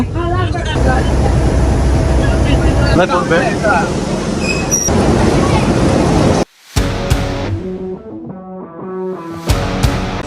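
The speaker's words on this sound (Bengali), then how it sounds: "এখন ট্রেন এই পাশ থেকে ওই পাশে চলে যাবে" A train engine shunting away from its coaches on Bangladeshi railway tracks: a loud, continuous rail rumble that cuts off abruptly, followed by quieter sustained tonal sounds and a few short clanks.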